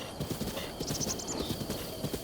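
Horse hooves clip-clop steadily in The Legend of Zelda: Breath of the Wild, a close, even trotting rhythm with a short high whinny-like sound in the middle, no speech over it.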